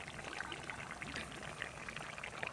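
Thin fish curry pours out in a steady, soft, continuous trickling stream, faint and even throughout with no talking.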